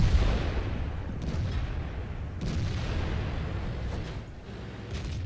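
A T110E5 tank fires in World of Tanks on the Airfield map, giving several deep booming shots over a continuous low engine-and-battle rumble.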